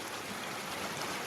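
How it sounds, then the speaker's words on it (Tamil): Water streams down a hillside waterfall near Valparai, a brief, steady and faint rushing wash with no other sound over it. "மலை ஃபால்ஸ் வந்து தண்ணி வந்துட்டு இருக்குது."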